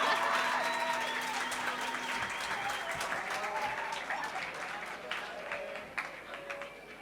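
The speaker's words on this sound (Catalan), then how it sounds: "Un fort aplaudiment una altra vegada per tota aquesta energia" Applause from a seated audience after a live band performance at a presentation event, a steady wash of clapping that slowly thins and fades toward the end.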